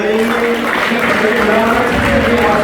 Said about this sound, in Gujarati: તાળીઓથી વધાવી